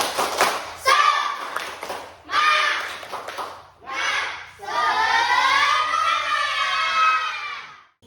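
A classroom of pupils does a rhythmic spirit clap, sharp clustered claps alternating with loud chanted voices in unison, ending in a long sustained group call.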